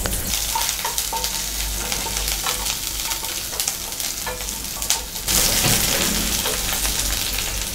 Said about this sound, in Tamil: இஞ்சி, பூண்டு, கிராம்பு இது எல்லாமே நம்ம வந்து ஒன்றாவே போட்டு நல்லா வதக்கிக்கலாம்